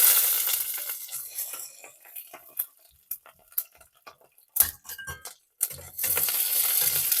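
Seeds, garlic and chillies hit two spoons of hot oil for a bitter gourd curry, giving a steady sizzle broken by close clinks and scrapes of a spoon stirring in the pan, then a louder sizzle as frying resumes.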